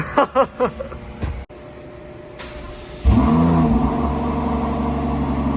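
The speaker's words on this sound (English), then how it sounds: "now, Fudge, we're ready for the best part of everyone's day, the cold start" A 2023 Rolls Royce Cullinan fitted with a full Capristo exhaust fires up from cold after a few quiet moments, settling into a loud, steady idle rumble that continues to the end.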